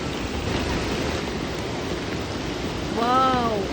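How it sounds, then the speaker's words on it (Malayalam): Floodwater flows over a road during heavy rain, producing a steady, loud, broadband rushing roar that fills the scene, with a brief voice rising over it near the end. "നമ്മുടെ റോഡാണ് മക്കളെ നിറഞ്ഞ് ഒഴുകുന്നത്"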